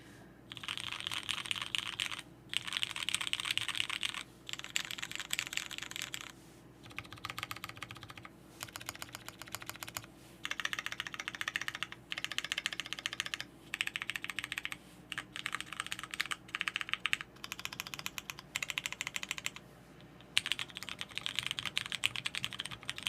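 Bursts of fast typing on a prototype MB-TKL 40% mechanical keyboard, a steady clatter of keystrokes broken by short pauses, close and clear with no voices.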